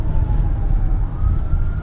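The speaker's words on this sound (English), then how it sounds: "I can hear his siren." An ambulance siren wails faintly from a couple of blocks back in busy Saturday-night city traffic, a thin rising tone over the low rumble of a car's engine and road noise.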